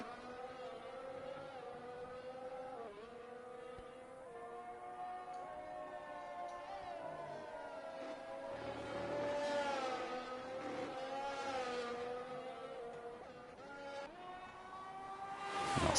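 Formula 1 cars in a racing video game at the Qatar Grand Prix: a high, buzzing engine whine rises and falls through the gears, with a second car swelling briefly past, moderately faint under steady background noise.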